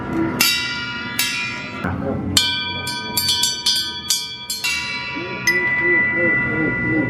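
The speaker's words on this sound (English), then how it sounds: "Oh, we got a bell over there." A metal bell in a quirky Portland oddities museum rings out in several bright, resonant strikes with long ringing tails, some struck in quick succession, close and loud with a little background chatter.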